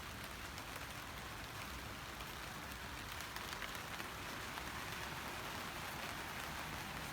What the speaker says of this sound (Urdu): ہلکی ہلکی بارش شروع ہو گئی ہیں